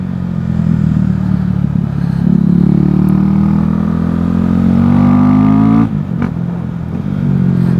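A stage 2 tuned car engine climbing Mont Ventoux revs loudly and steadily with a rising drone, then the note breaks off and a few brief exhaust pops crackle before the engine pulls again.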